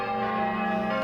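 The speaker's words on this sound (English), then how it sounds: "He is checked in his transports by the mighty peal of church bells, clashing and donging" Church bells peal as a stage sound effect in a theatre production of A Christmas Carol, a steady ringing tone that sustains through a short, moderately loud stretch with no voices.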